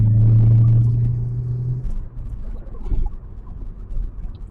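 A Rover with a Lotus engine roars loudly with a deep induction drone, then eases off into a lower, rumbling, uneven engine note heard from inside the car.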